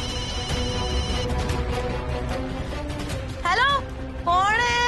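A mobile phone ringtone rings twice as a rising warbling melody near the end, cutting in loud and close over steady background music and household noise.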